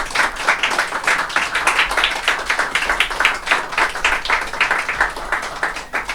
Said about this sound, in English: I'm going to ask that we all give a final round of applause to Jennifer